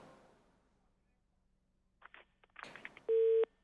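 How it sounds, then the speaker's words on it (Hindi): After a telephone call drops, a steady electronic busy-signal tone sounds clearly near the end, preceded by faint clicks and line noise. "मंजूर साहब, कॉल ड्रॉप हो गई है, आप लोग दोबारा कॉल कीजिए।"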